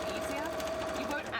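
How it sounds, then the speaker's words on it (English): A sewing machine stitching a purple cosplay piece flat runs with a steady, quiet mechanical whir and a rapid low needle pulse, continuous for the whole moment. "I'm just gonna quickly sew this part flat."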